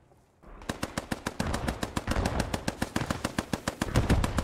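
A machine gun firing in the World War II shooter Squad 44, a loud rapid burst of evenly spaced shots sustained for about four seconds after a short quiet lead-in, with no talking.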